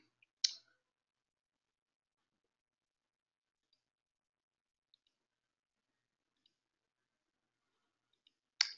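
Computer mouse clicks, two crisp, isolated clicks several seconds apart with a few faint ticks between them, quiet and otherwise silent.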